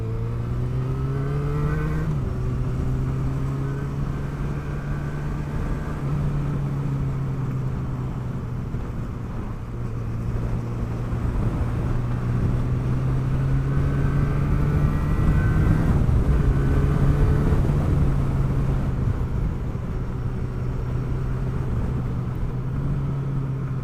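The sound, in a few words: Yamaha XJ6 motorcycle riding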